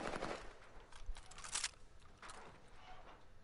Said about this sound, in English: that whole fucking lobby is shooting at me!